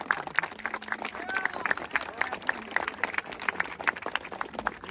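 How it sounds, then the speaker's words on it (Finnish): Applause at a crowded meetup gathering, quick scattered clapping from a group mixed with loud voices and chatter, fairly close and continuous. "Aplodit sillä!"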